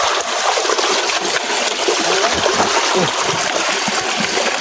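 Water splashing and trickling steadily through a rocky stream during a jungle trek, a continuous wet rush with scattered splatters heard close by, without any talk.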